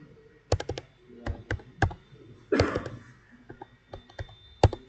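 Code is typed on a computer keyboard in quick, irregular bursts of close, crisp key clicks with short pauses, alone without talk.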